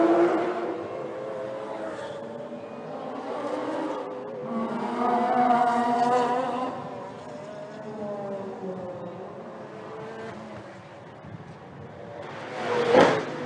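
A GT race car at full speed during a Colombo night street race roars past with a sustained, shifting engine note that swells and fades, ending in a sharp, loud surge as it nears.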